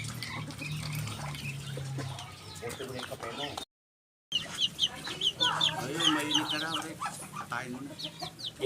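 Chickens clucking steadily before slaughter, several birds close by with a gap of silence midway, while people talk under the calls.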